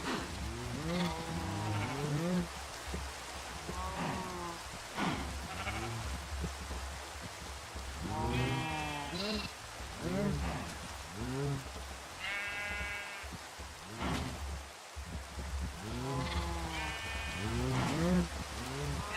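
Sheep bleat repeatedly in wavering calls, some close and loud, others overlapping, over a steady patter like light rain, with faint speech now and then.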